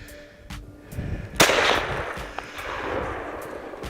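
A single rifle shot at a whitetail deer during an Alberta hunt cracks sharply outdoors, then trails off in a rumbling echo over faint background noise.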